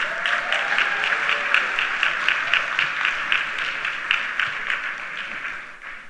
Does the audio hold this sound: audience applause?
yes